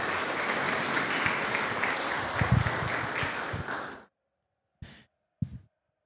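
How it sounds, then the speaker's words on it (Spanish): Applause from the audience at a women's football club squad presentation, welcoming the kit manager: steady crowd clapping for about four seconds that cuts off, followed by two brief isolated sounds in near silence. "Fuerte el aplauso, por favor, para Yomar."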